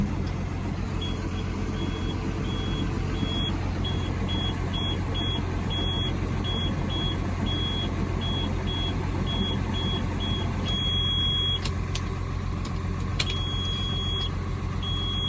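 A junkyard garbage truck sits idling nearby, its steady low engine drone running unbroken throughout, with a regular reversing-style beep pulsing faintly in the background.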